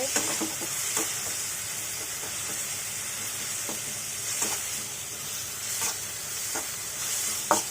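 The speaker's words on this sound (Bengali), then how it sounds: "এটাকে আমি হালকা গোল্ডেন ব্রাউন করে ফ্রাই করে নিব। পেঁয়াজগুলো নরম হয়ে হালকা ব্রাউন হয়ে আসছে।" Chopped onions with a pinch of salt frying in a pan and being stirred, softening toward golden brown, for a beef liver shingara filling; a steady close sizzle runs throughout with periodic scraping strokes of the spoon.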